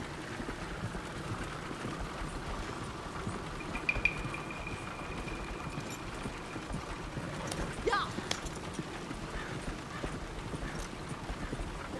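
Horse hooves clip-clop steadily along a road in Red Dead Redemption 2, a quiet, even trotting rhythm over low ambient background noise.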